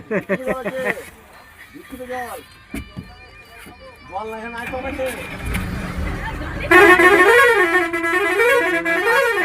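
A bus bound for Deoghar honks its horn repeatedly as it sets off, loud melodic toots over a rising engine rumble, with people talking nearby throughout.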